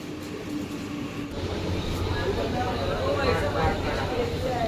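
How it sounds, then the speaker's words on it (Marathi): A commuter train rumbles in and rolls along the platform on the way to Dadar, Mumbai, its low roar building with squealing wheel and brake tones; people talk in the background. "आता ट्रेन आली ही 4:25 ची ट्रेन आहे."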